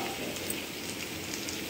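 Beetroot frying in a pan with fennel seeds gives a brief, steady, soft sizzle, even in level and alone.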